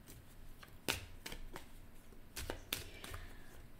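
A deck of cards being shuffled during a card reading, with several quick riffling bursts and soft snaps spread across a few seconds, close and quiet, with no talk.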